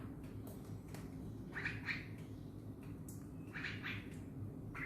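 Faint straw-headed bulbul calls sound twice from a young bird, each a short run of chirpy notes over a steady low background hum.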